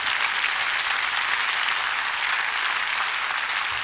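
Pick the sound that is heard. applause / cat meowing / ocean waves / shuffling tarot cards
applause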